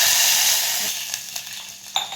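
Chillies and mustard seeds spit and sizzle in hot oil for a tempering, a close bright hiss that fades over a couple of seconds, dotted with small utensil clicks.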